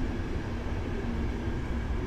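Train with Czech coaches at Warszawa Zachodnia station, a steady loud rumbling roar of rolling stock passing close by, with no voices.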